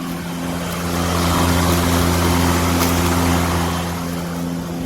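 Bosch AdvancedRotak 750 electric lawn mower, a 1700 W model, running steadily with a loud, even motor hum and whirring blade, swelling slightly in the middle and holding constant throughout.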